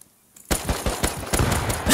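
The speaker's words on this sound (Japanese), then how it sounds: "砂ザメが撃ってきた" Gunfire in the survival video game Rust erupts after a brief quiet: a rapid series of about six or seven loud, evenly spaced automatic shots with sharp attacks and short echoing tails.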